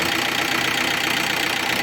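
Volkswagen Touran 1.9 TDI diesel engine running just after an oil change, a loud, steady close-up idle with an even, slightly knocking diesel clatter and no voices.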